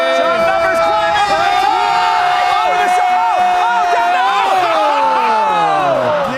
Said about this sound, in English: That is the sound of thousands of people feeling firsthand what type of emotions Super Mario Maker has the potential to inspire.